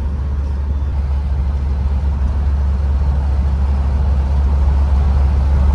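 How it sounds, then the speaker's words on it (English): Isuzu Trooper driving on the road above 35 mph, heard from inside as a steady, loud, low engine and road drone with broadband rumble that swells slightly toward the end, with no voices. "first drive on the road above 35 in the Trooper"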